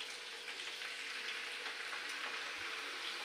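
Potato slices for chips fry in a wok of oil that is only slightly warm, giving a soft, even, fairly faint sizzle that runs steadily throughout with no voices.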